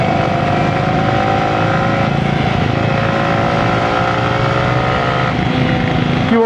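Motorbikes, including a Harley-Davidson, and a four-wheeler racing along a road at night, a loud steady engine drone with a rising whine, close by and without talk.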